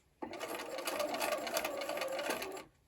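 A sewing machine stitches a faux double sawtooth star quilt block, starting abruptly into a steady, close mechanical whir for about two and a half seconds before stopping.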